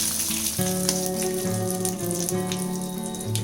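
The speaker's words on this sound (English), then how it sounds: "Fry them for a second." Curry leaves and a pinch of asafoetida fry in hot oil for tomato rice, giving a steady, close sizzle with a constant tonal hum underneath that runs for the whole stretch.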